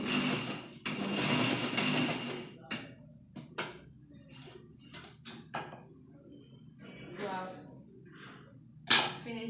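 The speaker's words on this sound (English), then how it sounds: "I'm going to fold it like this and top stitch on it before pleating it" A sewing machine top-stitches folded organza fabric for a rose flower top, a close burst of rapid stitching at the start followed by scattered clicks and handling noises.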